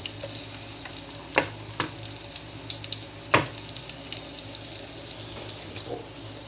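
Onion sautéing in a pan at the start of cooking chicken kinamatisan, a steady close sizzle with several sharp spatula knocks and scrapes against the pan, no one speaking.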